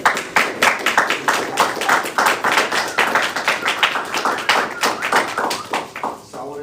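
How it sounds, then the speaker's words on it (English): A small audience at a public library book talk applauds the authors, with distinct, separate handclaps from a few nearby people, loud and fairly regular, thinning out toward the end. "I want to give a round of applause for our authors here today"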